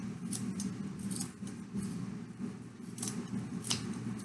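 Sharp scissors snip repeatedly through a wound yarn donut while making a pom pom, a close, steady run of crisp cutting crunches.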